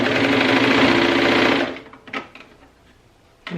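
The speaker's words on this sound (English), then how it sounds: "So now let's go over to the serger and we are going to serge around." A serger runs fast and loud along the edge of stretchy stocking fabric, a rapid steady whirring stitch for over a second before stopping, followed by soft handling clicks and a brief restart.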